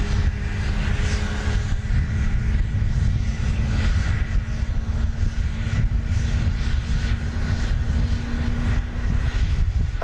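An airplane lands at Dallas Love Field, heard as a loud, continuous engine roar and rumble that holds steady for several seconds, with no voices over it.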